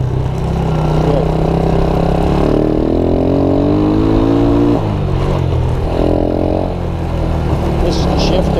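A Suzuki Quadrunner LT230E quad engine, built as a flat track racer and running on too much choke, drones loudly and steadily with several rising revs throughout.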